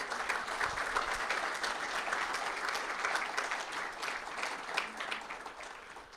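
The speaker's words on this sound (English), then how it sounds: "Can we clap for ourselves?" Faint, sustained applause from a crowd at a business expo launch in Mumbai, many hands clapping together in a steady, distant-sounding wash that fades slightly at the end.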